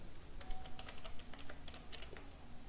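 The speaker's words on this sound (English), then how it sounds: "I'll just type" Quiet typing on a computer keyboard, a quick run of soft key taps with brief pauses, close and alone over faint room hiss.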